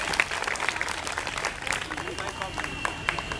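Schoolchildren applauding a correct answer at a quiz, a short burst of crowd clapping with voices mixed in, moderately distant.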